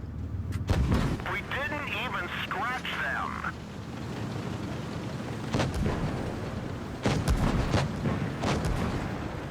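Tank cannons boom in World of Tanks Blitz during a Maus versus T95 battle, with heavy blasts at the start, around 5.5 seconds and near 7 seconds over continuous rumbling battle noise, with a brief whistling tone early on.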